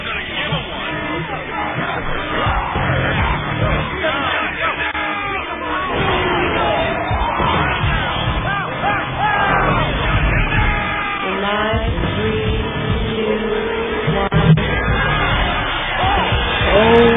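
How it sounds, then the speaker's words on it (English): A dense crowd roars and cheers in a video game, a steady wall of hubbub, whoops and yells that stays loud and near throughout, with occasional louder swells. "You hear that crowd?"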